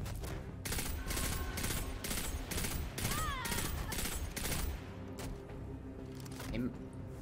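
Rapid bursts of gunfire from the video game Destiny 2 crackle in a steady rhythm, loud and close, then ease off toward the end, with a voice talking over the game audio.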